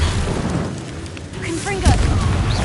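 An Incendio fire spell in Hogwarts Legacy bursts with a low whooshing boom amid rumbling game effects, a short fiery surge near the end over a steady background.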